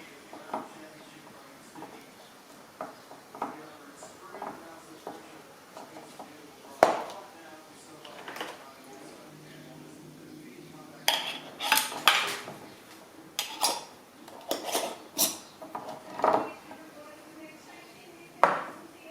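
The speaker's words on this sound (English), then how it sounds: "with these lids you've got to screw them up just a little bit tighter than finger tight" Metal canning lids being screwed onto glass jars of pineapple a bit tighter than finger tight, heard as scattered clinks and scraping clatters close by, some sharp and ringing, over a low background.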